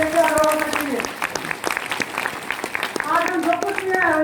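Applause from an audience at a DXN business motivational seminar: a stretch of clapping rises between a man's speech at the start and end, filling the room at moderate loudness.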